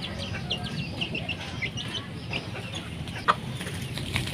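Bantam chickens in a coop clucking in soft, scattered bursts close by, with one sharper call near the end, over steady low background noise.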